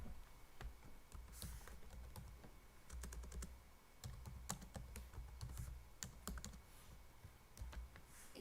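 Steady clatter of typing on a computer keyboard in a quiet room, keys tapping in quick irregular bursts with brief pauses, no voices.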